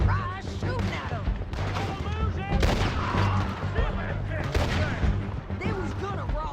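Gunfire in the Red Dead Redemption 2 video game, repeated shots and bursts mixed with a dense action soundtrack while voices talk over it throughout.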